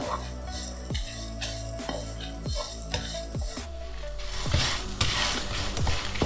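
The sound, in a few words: spices for roasted crab curry masala frying in a pan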